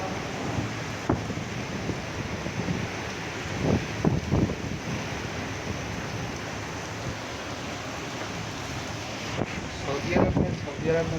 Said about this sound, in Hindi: सऊदी अरब में पहली दफ़ा मैंने इतनी तेज़ हवा के साथ बारिश देखी है।